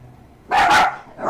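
A dog gives one loud, close bark, followed by the start of a second bark.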